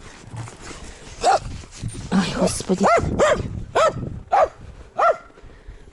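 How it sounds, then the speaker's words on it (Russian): A dog whimpers and gives a run of short, high yips and whiny barks close by, repeated in rhythmic bursts, while someone talks over it. "такая собака наглая"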